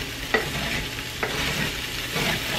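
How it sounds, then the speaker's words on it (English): Potatoes are stirred in a frying pan, a close, steady sizzle with a few scraping strokes and light knocks of the utensil against the pan, no talking. "I'm just gonna stir these potatoes again."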